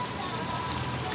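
Rain falls steadily on a surface, a dense even hiss of drops over the whole moment, close and fairly loud with no voices.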